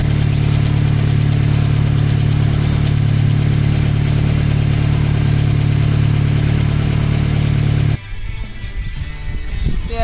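A car engine that has just been retimed and reassembled runs at a steady idle, loud and close with a constant drone, then cuts to a quieter, rougher sound near the end.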